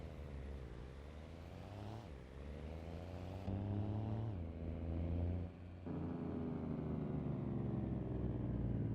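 A car in a trucking video game runs with an old 6.0 diesel engine sound. The faint, low engine drone rises in pitch repeatedly as it climbs through the gears.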